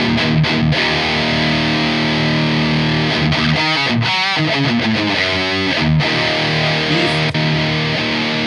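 Heavily distorted electric guitar through a Friedman BE-OD or Soldano SLO preamp pedal, playing sustained chords and a few bending notes, thick and saturated, loud and continuous throughout.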